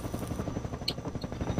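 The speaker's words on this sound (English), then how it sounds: "There's helicopters shooting at me." Helicopter gunfire sounds from the video game Half-Life 2 mod Get a Life, a fast repetitive thudding with brief bright bursts, fairly quiet and unbroken.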